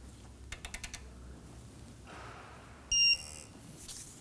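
A torque wrench tightens the lower ball joint on a 2017-2024 Nissan Armada 5.6L V8, giving five quick, faint ratcheting clicks in a row, followed later by a short electronic beep. Nobody speaks.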